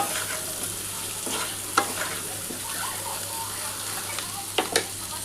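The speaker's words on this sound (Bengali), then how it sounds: "একটু টমেটো আর পেঁয়াজটার সাথে একটু নিয়ে আলুটা ভাজা ভাজা হলে" Potatoes frying in a pan with tomato and onion, a steady low sizzle broken by a few sharp scraping stirs of a spatula.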